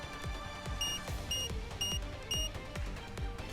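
An excavation bomb alarm in the video game Nikke beeps in a fast, regular electronic pattern, about two pulses per second, over thumping low pulses and a busy background bed.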